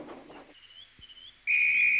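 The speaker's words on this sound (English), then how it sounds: "that's my guard's whistle" Railway guard's whistle in a Trainz train game remake, a single shrill, steady high blast starting abruptly and holding to the end, loud and clear after quieter background sounds.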